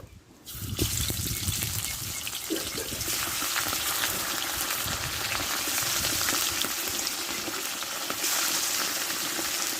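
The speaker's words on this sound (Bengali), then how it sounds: "মাছগুলো ভালো করে ভেজে নেব" Fish hit hot oil in a wok for Bangladeshi sorse bata macher, made with bata fish and mustard paste: a sudden loud sizzle bursts in within the first second, then a dense, crackling fry carries on steadily to the end.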